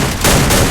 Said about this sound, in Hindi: मेरे को पता ही नहीं निकिता से गोलियाँ बहुत तेज चलती है।